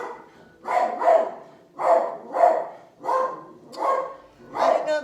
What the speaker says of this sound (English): but that dog Jack is crazy